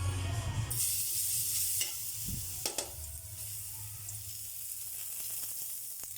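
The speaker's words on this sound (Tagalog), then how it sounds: "Pagigisa na po tayo. Mantika. Lagyan na natin yung bawang." Garlic sizzles loudly as it hits hot cooking oil in a pan, a bright continuous frying hiss that settles to a steady crackle, with a few stirring scrapes and clinks near the start.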